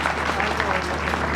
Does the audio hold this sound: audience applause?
yes